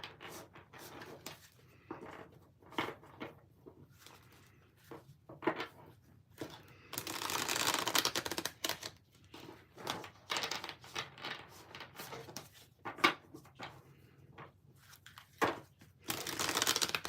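Tarot cards being shuffled in repeated bursts, crisp riffling and soft slaps with short pauses between, close and fairly quiet.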